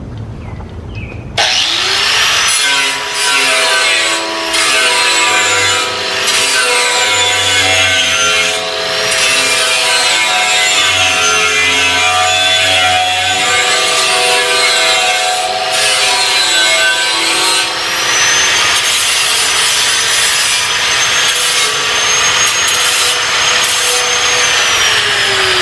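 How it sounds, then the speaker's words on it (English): A grinder with a 60 grit wheel rounds off an edge. It starts after a second and keeps up a loud, close, continuous whine whose pitch wavers as the wheel bites. "we're just going to round it off with the grinder"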